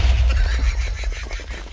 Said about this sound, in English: All I heard was the explosion.